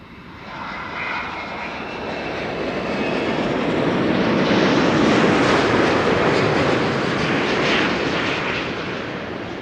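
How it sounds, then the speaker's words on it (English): A LATAM Airlines Boeing 787-9 Dreamliner arrives at Amsterdam Schiphol Airport from Sao Paulo, its broad engine roar building from moderate to loud and then easing slightly as it passes, continuous and with no voices. "Latam Airlines is arriving from Sao Paulo, 10 hours and 50 minutes on the way."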